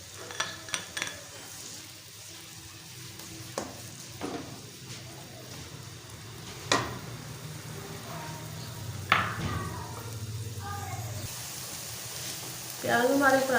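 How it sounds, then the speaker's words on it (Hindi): Onions fry in hot oil in a pan for a chicken liver masala, a soft continuous sizzle broken by stirring scrapes and utensil clinks, growing louder toward the end. "अब हमने प्याज फ्राई करने के लिए डालने"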